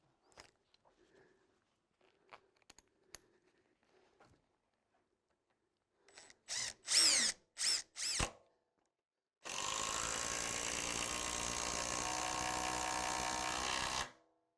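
A Makita DTD173 18 V LXT cordless impact driver fires in several short bursts after a few quiet clicks, then runs at speed 4 in one sustained, loud, rattling hammering stretch that cuts off sharply.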